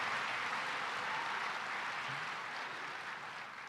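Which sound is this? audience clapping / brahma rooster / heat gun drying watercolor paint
audience clapping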